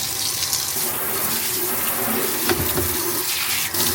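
Water runs steadily from a kitchen tap while surfaces are washed, a constant close rush with small splashes and clatter, no talking.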